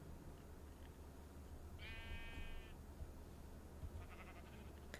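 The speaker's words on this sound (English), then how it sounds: "another sheep" A sheep in Minecraft gives a single short, wavering bleat, faint against a low background hum, with a few soft game clicks scattered around it.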